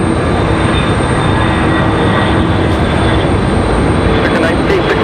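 A Delta CRJ regional jet at Raleigh-Durham International Airport fills the air with a loud, continuous broadband roar that holds steady throughout.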